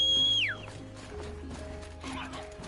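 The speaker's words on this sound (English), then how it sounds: "Let's get our horse." A horse whinnies loudly in a Horizon Zero Dawn game scene, one short neigh falling away at the start, followed by quieter game ambience and faint hoofbeat-like thumps.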